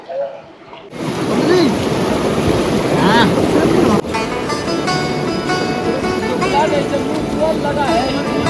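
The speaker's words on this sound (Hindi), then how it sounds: "पानी का बहाव बहुत तेज है और ठंडा भी पानी बहुत है" Fast, cold river water rushing steadily and loudly nearby on the Amarnath Yatra route, with wind buffeting the microphone and voices heard over the flow.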